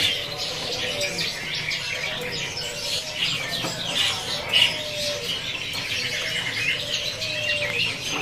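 An orange-headed thrush sings at a busy bird market, its chirps and whistled phrases repeating amid other birds calling nearby, with faint background voices.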